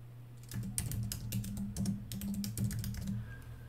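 Rapid clicking keystrokes on a computer keyboard while entering text into a Microsoft Word document, close and fairly quiet, in irregular bursts with short pauses and no talking.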